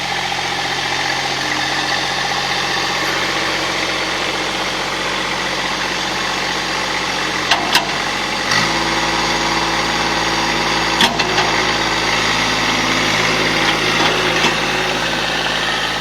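A small tractor engine idles steadily nearby, with a low vibrating hum that shifts in tone partway through, plus a couple of faint clicks.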